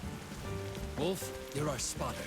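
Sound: rain falling in Arena Breakout video game

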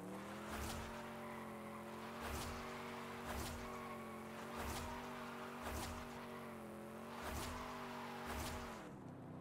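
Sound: Chevy Impala doing burnouts, tires squealing, Forza Horizon 5 video game

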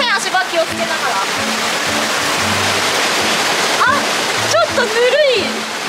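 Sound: hand splashing in river water

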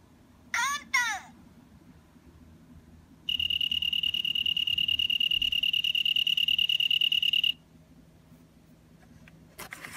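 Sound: autumn insect chirping

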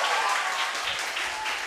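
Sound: applause

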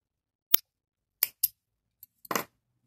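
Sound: scissors cutting crochet yarn

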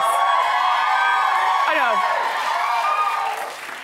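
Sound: studio audience cheering

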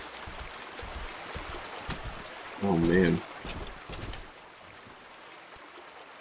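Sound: water spilling in flooded room in video game Bioshock 2

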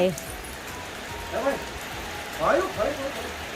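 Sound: rain

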